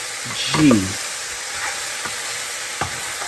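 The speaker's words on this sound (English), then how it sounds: "as they're cooking, just scrape up the bottom of that pan" Mushrooms frying in a pan for beef stroganoff, with the pan bottom scraped by a utensil; a steady broadband sizzle runs throughout, with a brief voice near the start and a few soft scraping knocks later.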